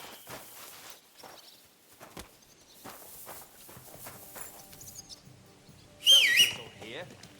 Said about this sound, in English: Don't whistle here. Nobody wants to hear it.